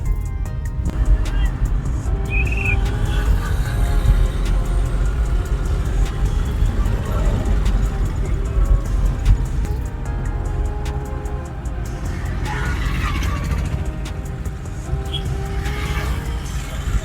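Cars on National Highway 16 near Vijayawada give a steady, loud road roar with engine rumble and passing traffic, heard continuously from inside a moving vehicle.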